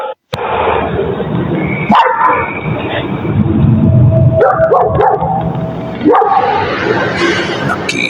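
Dog barking on CCTV footage, several sharp barks and yips cutting in over a noisy, muffled background at close range.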